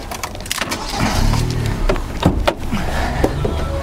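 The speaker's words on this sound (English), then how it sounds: "Popping the bonnet open" Bonnet of a 2011 Kia Cerato Koup SLS automatic being released and popped open, a short mechanical clunk with latch clicks and thumps in a fairly loud, close setting.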